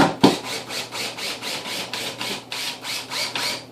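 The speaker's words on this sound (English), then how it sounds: "I needed 4-inch sheetrock screw to get up into that wood header" 4-inch sheetrock screws driven by a power driver through a bay window frame into a wood header: a steady, close grinding rasp pulsing in regular bursts about every third of a second, with a sharp thump near the start and no talk.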